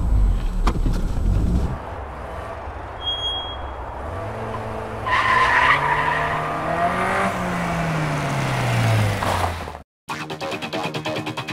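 Manual-gearbox 1995 Opel Omega B with its 2.0-litre X20XEV engine accelerating hard, the engine note climbing through gears while tires squeal and skid on the road, loud and close with no talk.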